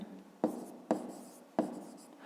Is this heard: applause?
no